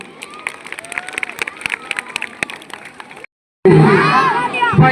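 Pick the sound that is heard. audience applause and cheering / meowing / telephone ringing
audience applause and cheering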